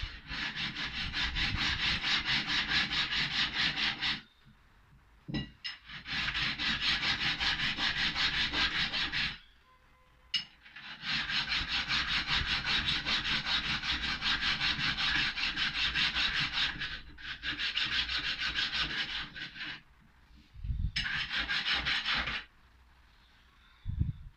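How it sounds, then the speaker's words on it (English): Steel card scraper being flattened with a hand file, in long steady rasping strokes broken by short pauses, close and loud with no talk. "so I'm just using the file"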